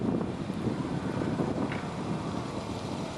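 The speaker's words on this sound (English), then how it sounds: "There's quite a wind blowing." Wind blowing across a vineyard at Riebeek Kasteel during spraying, a steady broadband rush with buffeting against the microphone, continuous and fairly loud with no talk.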